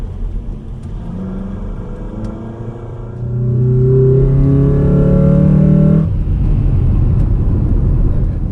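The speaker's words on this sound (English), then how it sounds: "Second gear pull, nothing too crazy, just up to a bit over 60 k's an hour" Honda Odyssey minivan with a manual gearbox swap pulling hard in second gear: steady engine drone that swells sharply in volume, rising in pitch, then eases off as the throttle lifts, heard close from inside the cabin with no talk.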